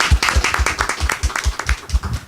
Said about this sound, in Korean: 여러분 일단 선정되신 거에 대해서 또 박수 한번 부탁드리겠습니다